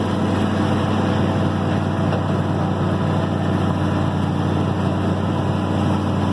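A New Holland TR70 combine engine runs at high RPM during bean harvest, a loud, steady mechanical drone that holds without a break and has no talk over it.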